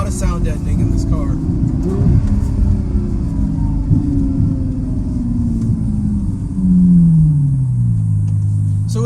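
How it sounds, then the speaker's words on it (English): Ferrari F12 Berlinetta V12 idling through an aftermarket valved exhaust, a loud steady low rumble heard from outside the car that swells and shifts pitch near the end, with people talking over it. "the idle is much louder. You can definitely hear the idle."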